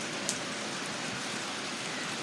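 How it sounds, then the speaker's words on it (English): Rain pours down steadily during a huge storm in a residential neighborhood, a constant, even hiss of drops with no voices over it. "The rain has calmed down, but the wind hasn't yet. I think the rain just makes a lot of noise."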